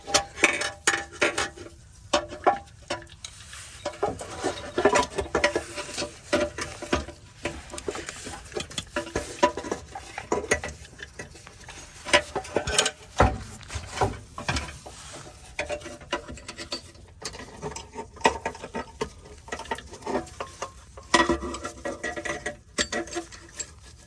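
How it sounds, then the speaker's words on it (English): Clicks and rattles as a chain is worked back onto a sprocket during oil pump repair on a T1N Sprinter engine with the oil pan removed, a long irregular run of close metallic ratcheting and clinking. "that was a pretty good challenge getting the chain back on the sprocket"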